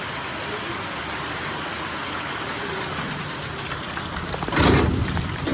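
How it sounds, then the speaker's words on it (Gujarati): Steady rain pours down around a broken-down car, a dense even hiss that swells briefly near the end, with no speech. "વરસાદ"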